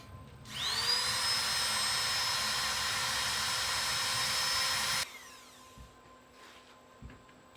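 A power tool, such as an angle grinder, scoring the bearing ring on a Jeep TJ Dana 44 axle: a loud, high whine spins up, holds steady for about four seconds, then cuts off, followed by a few light clanks in a quiet garage.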